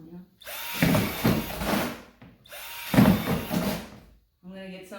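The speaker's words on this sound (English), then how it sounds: "watch them as I drill right to the top." A power drill bores holes in a plastic worm farm bin in two long whining bursts, the motor pitch rising and wavering as the bit cuts. It is loud and close, and a voice speaks briefly at the end.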